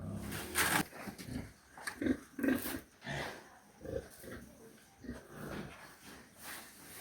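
Pigs on a farm at feeding time, grunting and squealing in repeated bursts at close range, loud and irregular, with no talk over them.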